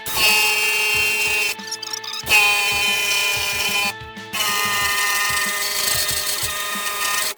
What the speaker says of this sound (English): Now just using a plastic paint stripping wheel.